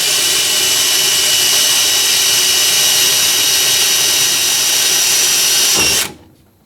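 A power drill with a small bit whines loudly and steadily as it bores a hole during a fuel pump controller install on a 1965 Corvair, then stops abruptly after about six seconds.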